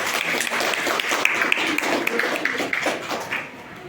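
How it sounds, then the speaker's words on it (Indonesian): A classroom of students claps for a classmate, a moderate burst of scattered hand claps that thins out and fades toward the end. "Silakan tepuk tangan buat teman kalian."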